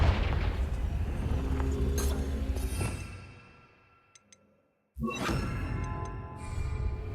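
In Hogwarts Legacy, a Confringo fire spell lands in a rumbling blast that fades over a few seconds, followed by soft chimes and then a sudden fresh burst of noise.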